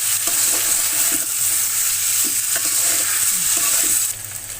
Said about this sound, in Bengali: এবার এগুলো ভালো করে নেড়ে চেড়ে ভেজে দিব।